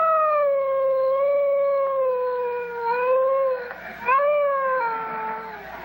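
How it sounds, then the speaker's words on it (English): A dog in a neighboring yard howls in one long, sustained, wavering cry that dips and rises, fairly loud and clear with no talk over it. "That dog is in the next yard."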